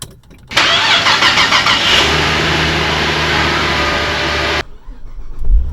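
A Saab 9-3 engine cranks and catches after a Minnesota winter, then settles into a steady idle close by before shutting off abruptly; a brief rumble follows.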